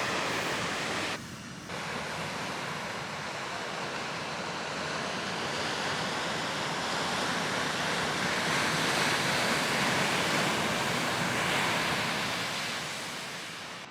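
Rough ocean surf pounds a black sand beach in Timanfaya natural park, Lanzarote, a continuous loud roar of breaking waves with gusts of wind buffeting the microphone.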